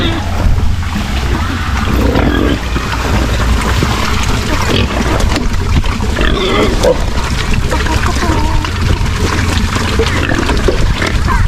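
Pigs on a backyard farm, pregnant sows being tied up to be moved, grunting and squealing close by over constant low noise, with someone talking at times.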